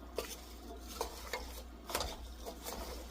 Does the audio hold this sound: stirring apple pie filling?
yes